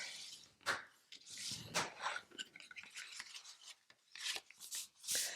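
A paper card folded back and forth accordion style, giving soft close rubbing and scraping crinkles in irregular bursts, quiet and with no talk.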